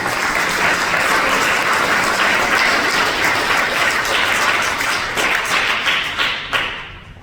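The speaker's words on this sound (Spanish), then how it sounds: "Un aplauso para ellos." A church congregation at a Spanish-language service breaks into loud, sustained applause, dense and close, tapering off at the end.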